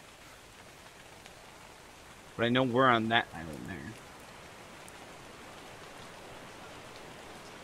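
Steady rain falls in the video game ARK Survival Evolved as an even, continuous hiss, while someone speaks briefly over it partway through.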